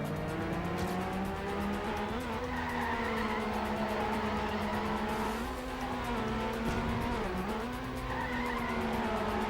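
A race car drives a city oval in Trackmania United Forever, its engine droning steadily with shifting pitch and tires squealing and skidding throughout, loud and continuous with no talk.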